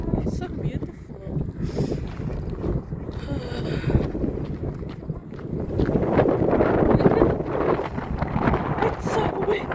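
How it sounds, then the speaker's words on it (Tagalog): Strong wind buffets the microphone outdoors at a campground in Oyen on a stormy day, a continuous roaring rush that swells louder in the second half, with brief voices talking over it. "It's so windy."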